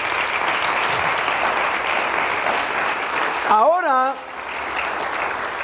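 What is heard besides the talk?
church congregation applauding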